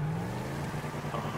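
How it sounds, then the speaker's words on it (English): A deep, throaty Declasse Sabre Turbo muscle car engine in GTA 5 Online rumbles and revs steadily in the rain, loud and droning close by with no talking. "listen to that engine"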